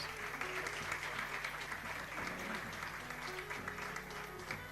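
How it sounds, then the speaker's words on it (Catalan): Steady applause at an awards ceremony for the X(p)rimenta science competition, held at moderate volume from start to finish, with a faint voice beneath it. "Un aplaudiment per elles"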